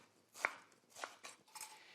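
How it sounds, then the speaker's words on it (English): A knife slices a red onion into thin slivers on a board, three or four crisp, faint cutting strokes spaced about half a second apart, close by, with no talking. "Slice up the onion, nice thin little slivers here."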